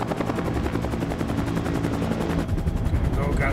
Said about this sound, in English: Let's get to the chopper.